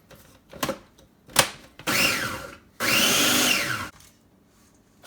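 A food processor pulses breadcrumbs, onion and spices for black bean burgers. The motor whirs in short bursts, first quick brief pulses and then two longer runs of about a second each, with clatter in between.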